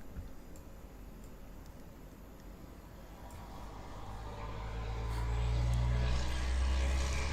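Loud trucks passing outside, a low rumble that swells steadily toward the end as a vehicle approaches, heard faintly from a distance under a quiet room tone with no speech.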